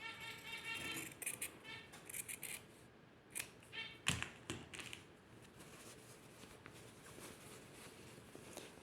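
Scissors cut fabric while a hem is mitred, giving a series of close, crisp snips and handling rustles that fade to quieter fabric movement.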